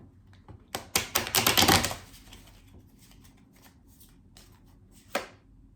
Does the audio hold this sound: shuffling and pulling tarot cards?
yes